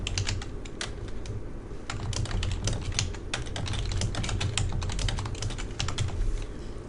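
A company name is typed on a computer keyboard in a quick, steady patter of close key clicks. No one speaks.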